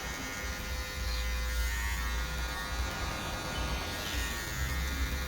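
An electric hair clipper runs continuously with a steady close buzz while cutting a skin fade using a 0.5 guard to blend, the motor hum constant throughout with no talking.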